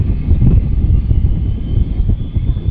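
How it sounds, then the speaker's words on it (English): An aircraft at Manchester airport spools up its engines, a steady loud low rumble and roar that continues throughout without talk. "I don't know if you can hear that, but something's starting its engines."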